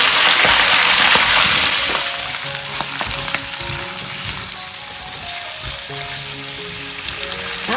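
Napa cabbage and carrots with garlic hit a hot wok and stir-fry in loud, steady sizzling, with scraping stirs and spatula clinks; the sizzle is strongest at the start and eases slightly before swelling again.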